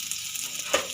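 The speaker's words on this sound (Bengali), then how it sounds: "এটা আমি একটু হালকা নেড়ে নেব, বেশি ভাজবো না, পুড়ে যাবে।" Bay leaf and panch phoron spices are stirred lightly in hot oil in a pan for a vegetable soup, making a brief, quiet sizzle with one soft scrape of stirring.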